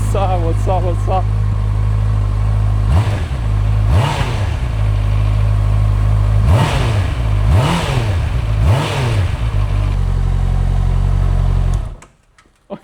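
Honda CBR650R motorcycle engine running loudly close by, with several sharp throttle blips rising and falling between steady rumbling idle, then cutting off abruptly near the end.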